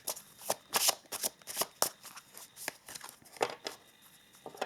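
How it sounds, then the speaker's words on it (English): Oracle cards being shuffled during a tarot and oracle card reading: a close, soft run of papery riffles and flicks in quick uneven bursts, with no talk. "let us pull some oracle cards as well here"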